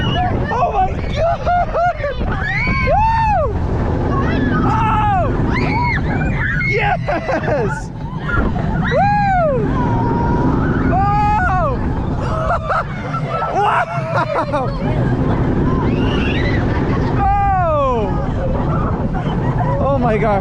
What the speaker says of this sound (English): We're gonna start out with the extremely punchy LSM launch.